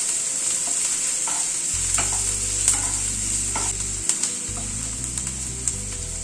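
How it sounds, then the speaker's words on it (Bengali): Onion frying lightly in a pan for cheesy bread bites, a steady broadband sizzle running throughout with occasional scrapes and clicks of stirring, close and moderately loud with no talking. "পেঁয়াজটা একটু প্রথমে হালকা করে ভেজে নেব"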